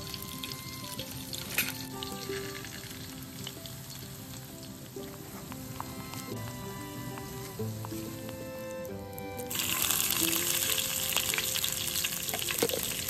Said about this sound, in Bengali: তেল মোটামুটি গরম হয়ে এসছে, তো আস্তে আস্তে চিকেনগুলো দিবি